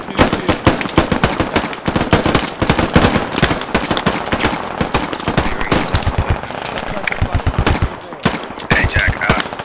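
Sustained suppressive gunfire during a militia operation, with dense, rapid bursts of loud automatic shots cracking close by for nearly ten seconds, pausing briefly, and voices are faintly heard beneath.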